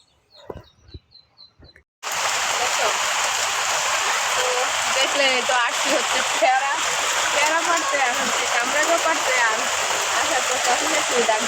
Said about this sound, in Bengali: এখন আবার বৃষ্টি নামতেছে